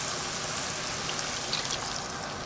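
Half a cup of water poured into a pan of cream cheese sauce for tortellini, a steady close splashing trickle running evenly through the moment with no talk over it.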